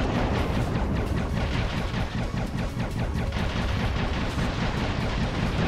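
Rapid, dense gunfire from the video game Dave the Diver, a steady barrage of shots running continuously and loudly throughout with no pauses.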